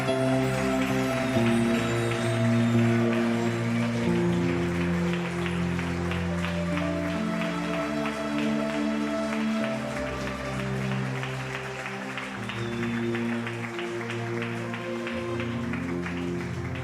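Church congregation clapping for the Lord after a worship song, applause blended with lingering music and sustained tones, steady and fairly loud for the whole stretch.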